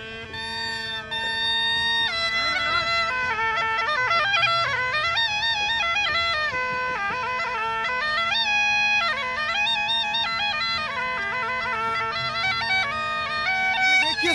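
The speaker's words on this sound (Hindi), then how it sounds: "स्वर लहरी आप सुन पा रहे हैं किस तरह से जो है मस्क वादन होता है यहाँ का लोकवाद यंत्र" A masak, the Rajasthani folk bagpipe, plays a continuous reedy melody over a steady drone, loud and close, with sustained wavering notes at an outdoor camel festival in Bikaner.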